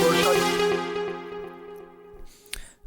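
Synth melody for a song breakdown, a bright sustained tone with a few stepped notes that slowly fade out, followed by a brief click near the end, heard alone.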